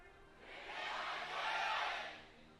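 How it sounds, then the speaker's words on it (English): Cheering from an esports arena crowd at an LCK League of Legends match between Griffin and DAMWON, a broad roar that swells to a peak midway and then fades, with no clear speech. "Griffin getting the bigger cheer this time around"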